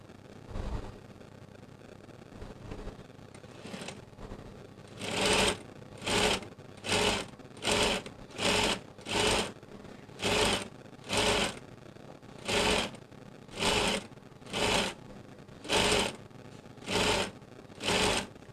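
A sewing machine stitching the bottom hem of a skirt runs in short regular bursts, about a dozen even whirring runs separated by brief pauses, close and clear with no talk.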